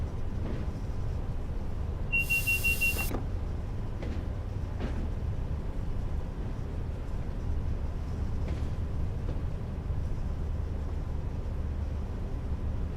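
A single short electronic warning beep sounds in the cab of a Class 86/4 electric locomotive in Train Sim World 6, on the West Coast Main Line between Carlisle and Crewe, over a constant low running rumble.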